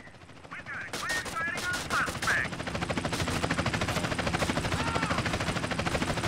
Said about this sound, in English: Only choppers.